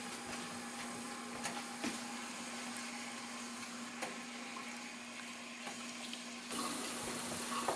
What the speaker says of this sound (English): Starting to boil fast since I already had it pre-boiled.